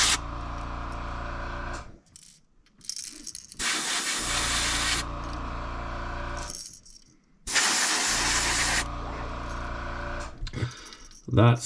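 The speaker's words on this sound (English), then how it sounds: "I'm going to spray this coat on very lightly, because I've never used the fluorescent colors yet." A paint spray gun running at 40 psi hisses in several long bursts as it lays fluorescent paint onto a custom fishing lure, with brief pauses between passes.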